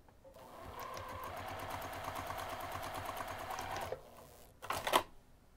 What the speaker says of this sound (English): We're going to sew the short ends using a 1/2 inch seam allowance.